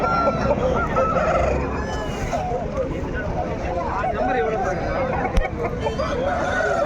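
A rooster crows amid the steady crowd babble of the Pileru chicken market, with other fowl clucking nearby and people talking throughout, one short sharp knock near the end.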